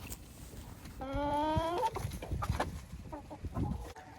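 Hens in a coop give a drawn-out harmonic squawk, followed by a scatter of soft clucks and rustling close by, with no talking.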